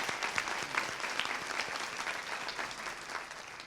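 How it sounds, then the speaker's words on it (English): Conference audience at a leadership event gives a round of applause, a steady wash of clapping hands from a sizeable crowd, moderately loud and sustained without any speech over it. "we should actually give her a round of applause."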